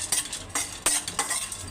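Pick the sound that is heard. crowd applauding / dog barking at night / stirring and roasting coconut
stirring and roasting coconut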